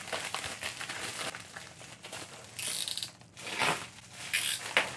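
Crinkly plastic wrapping being peeled off an Infuze Lid elixir and the parts pulled apart, bursts of crackling and rustling with small clicks and snaps, close and uneven, no talking.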